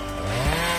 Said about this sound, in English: the Husqvarna 365 is a powerful, professional chainsaw designed for heavy-duty tasks like felling trees